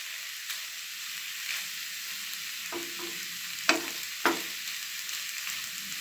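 Rice being fried and stirred in a pan, with a steady close sizzle and a few sharp scraping clatters from a utensil against the pan, no voices.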